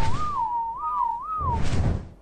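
A character in the survival game ARK: Survival Evolved gives a short human-style whistle, a wavering melodic warble lasting about a second and a half, clear and close, followed by rustling game noise.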